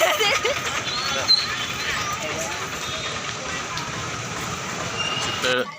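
A train rumbles and clatters along the tracks at moderate distance as it enters Simhachalam railway station, with a brief squeal of wheels and people talking faintly over it.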